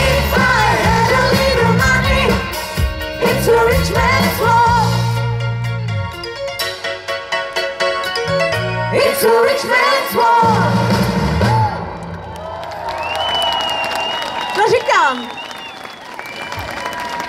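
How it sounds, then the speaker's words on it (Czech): A revival band plays live at a Christmas market in Kroměříž while the audience claps, whistles and hoots. Loud music and cheering are heard first, then thinning applause and a voice talking over the crowd. "všichni tleskají, pískají, houkají, hvízdají"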